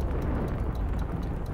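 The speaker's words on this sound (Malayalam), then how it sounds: "ഓ ഓ എല്ലാം പൊട്ടിത്തെറിച്ചു." A large explosion in the co-op video game It Takes Two, a dense, continuous roaring rumble heavy in the low end that holds steady at full loudness with no voices.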